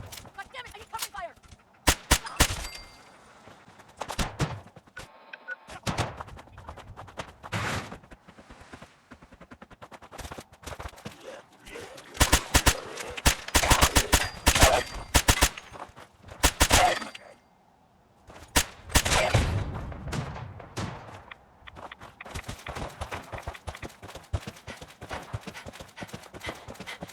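Gunfire in a video game shootout: irregular bursts of shots and rapid volleys mixed with hoofbeat-like clopping, loud and scattered over a steady background.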